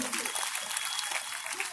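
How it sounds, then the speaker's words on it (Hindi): An audience at a Noida religious gathering claps to welcome a guest, a steady wash of applause heard at moderate distance, fairly faint, with no voices over it. "आप लोग ताली बजा के स्वागत कीजिए"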